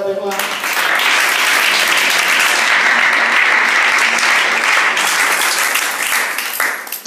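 A church congregation bursts into loud, sustained applause and cheering for the King, a dense roar of clapping and voices that holds steady before tapering slightly at the end.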